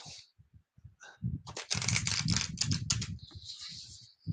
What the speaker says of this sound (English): Let me shuffle these real quick, get them ready.